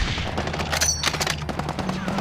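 Rapid sniper rifle shots in a video game, a string of sharp cracks and bursts in quick succession over constant game background noise, loud and close.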